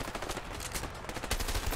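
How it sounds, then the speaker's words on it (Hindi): Rapid bursts of SMG gunfire in the co-op video game A Way Out, dense and loud, with overlapping shots rattling continuously through the short stretch and no talk. "कितनी गोलियां लग रही है एसएमजी की लिटरली, और इसका रिकॉइल अलग है।"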